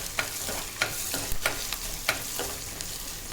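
Slit green chillies and garlic fry in hot oil while being stirred in a pan, a steady sizzle broken by regular scraping strokes about every half second, close and clear with no talk.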